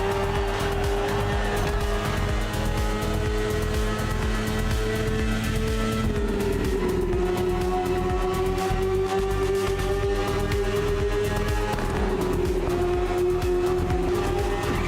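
A BMW S1000RR superbike runs in the racing game The Crew Motorfest, its engine holding a loud, continuous drone that shifts pitch as it revs and changes gear, with no pauses.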